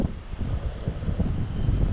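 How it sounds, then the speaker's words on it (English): Strong wind buffets the microphone on a creek during spring kayak fishing, producing a continuous low rumbling gust noise with no speech. "Man, I know it's been windy. Didn't think it's be this windy today."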